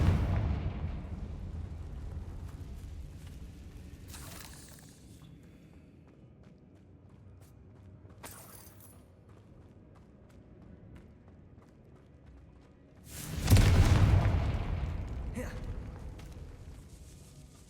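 In Hogwarts Legacy, the Confringo fire spell goes off in a decaying catacomb as a sudden loud boom and rumble, with a smaller burst earlier and faint ambient rumble throughout.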